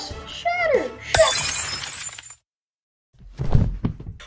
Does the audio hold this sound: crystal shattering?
yes